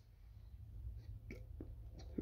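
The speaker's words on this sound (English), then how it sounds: "that was a burp" A single short burp after drinking alcoholic seltzer, quiet and close, with a couple of brief throaty bursts over a low steady background hum.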